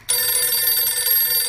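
A telephone rings in a radio drama, starting abruptly with a loud, continuous electric bell ring that holds steady to the end, with no voices.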